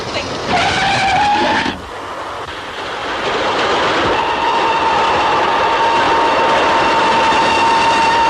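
A train roars closer in a 1936 radio mystery drama, a screeching whistle-like tone giving way to a loud, building rumble of wheels on track that swells and holds to the end.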